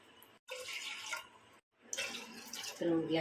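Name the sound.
water poured into pressure cooker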